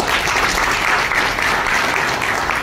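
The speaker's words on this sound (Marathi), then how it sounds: "त्यांच्यासाठी एकदा जोरदार टाळ्या" Loud, dense applause from the audience at the opening of an old-age home in Kolhapur, continuous clapping filling the whole short stretch without a break.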